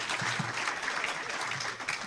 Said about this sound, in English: You can have an applause if